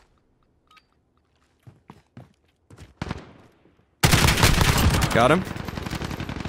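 Rapid automatic gunfire in a Modern Warfare multiplayer match erupts loudly after a few sparse single shots, continuing as a dense, sustained burst, with a brief spoken remark.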